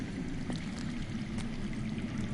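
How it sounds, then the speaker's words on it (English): Underground water flows in a Game of Thrones video game as a steady, dense rushing wash with no breaks and no talking. "That's water. I hear water. From underground."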